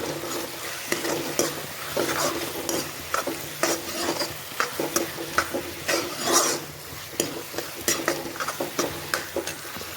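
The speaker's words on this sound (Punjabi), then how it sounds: "ਹੁਣ ਇਸ ਵਿੱਚ ਪਿਆਜ਼ ਐਡ ਕਰਾਂਗੇ ਤੇ ਟਮਾਟਰ ਨੂੰ ਐਡ ਕਰਾਂਗੇ ਇਸ ਨੂੰ ਚੰਗੀ ਤਰ੍ਹਾਂ ਪਕਾਵਾਂਗੇ" Onion and tomato frying with lentils in a pan, a steady sizzle under repeated scraping and stirring of a utensil against the pan, with occasional metallic clinks.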